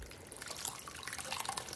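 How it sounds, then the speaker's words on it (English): Filtered water for cold brew coffee is poured into a Tupperware container at home, a steady close splashing trickle with small drips, heard alone. "All right, now you just go ahead and fill up your Tupperware."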